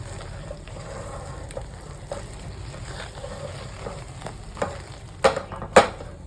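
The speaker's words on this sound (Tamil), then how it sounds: "முந்திரியும் சேர்த்து நல்லா கலந்து விட்டுலாம்." Cashews are stirred into a mixture in a hot pan for thirupagam, with a soft steady sizzle and a few scrapes, then two louder sharp clanks of the spoon against the pan near the end.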